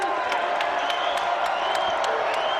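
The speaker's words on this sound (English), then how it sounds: "Now all of a sudden the crowd's kind of getting into it." Basketball arena crowd at a South Dakota State at New Mexico men's game cheering and whooping after a three-pointer, a steady loud roar with squeaky sneaker chirps cutting through it.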